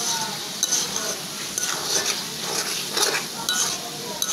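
Egg being stirred into ash gourd frying in a pan, a spatula scraping and clinking against the metal in an irregular rhythm over a constant sizzle, heard up close.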